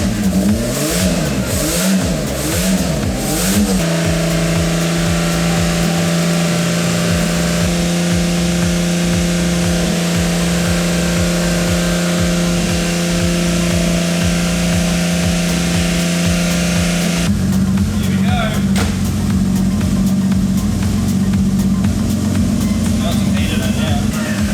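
A quad compound turbo VL wagon engine revs hard and continuously with a loud, raspy drone that shifts pitch several times, and voices can be heard beneath it.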